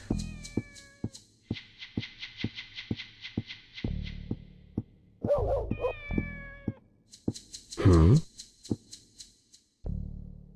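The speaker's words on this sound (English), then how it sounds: "We gotta listen for the meows" Repeated kitten meows in the Dreamcast game Shenmue, high and plaintive, come in bursts over a soft rhythmic thumping background, with one louder, drawn-out cry near the end.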